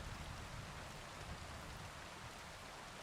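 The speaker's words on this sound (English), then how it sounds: "It's raining out there." Steady rain falls in the medieval game Kingdom Come: Deliverance as an even, hissing wash of drops with no pauses. It is soft and continuous and there are no voices.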